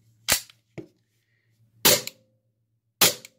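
A Smith and Wesson M&P9 airsoft pistol fires three sharp snapping shots, spaced over a few seconds, each with a short clatter, close and loud over a faint steady hum.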